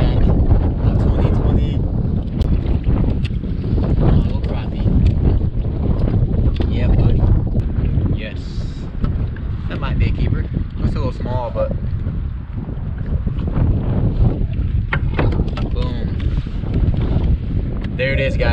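Wind buffeting a microphone while fishing for crappie from a kayak on open water, loud, rough, continuous gusting roar with a voice talking over it at times.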